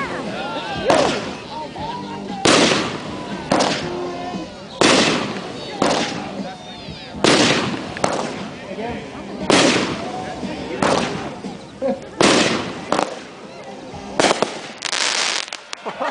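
A Shogun fireworks display with loud booming bursts every second or two, crackling tails trailing after several, with a few faint voices between the blasts.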